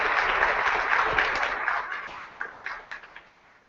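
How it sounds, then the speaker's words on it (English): A keynote crowd gives a round of applause at a tech conference opening, the dense clapping broad and steady at first, then thinning into scattered claps toward the end. "So a round of applause for these guys, please."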